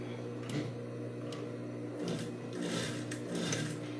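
Sewing machine stitching a square-neckline blouse, quiet rapid mechanical whirring in short bursts with brief pauses between runs.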